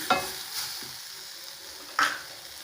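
Finely chopped onion fries in a pan with a soft continuous sizzle, punctuated by two clear scrapes of a spoon stirring against the metal.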